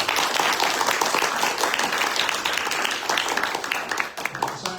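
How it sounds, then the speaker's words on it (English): An audience at a deep-sea mining science and policy talk applauds, a dense, steady clapping that carries on for several seconds before thinning toward the end. "Let's give them a round of applause for that."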